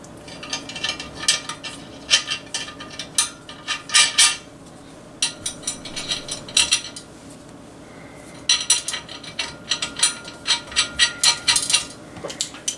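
Nuts and washers tightened onto the metal base of a 5 lb sausage stuffer, giving repeated close clinking and ratcheting metallic clicks in irregular bursts.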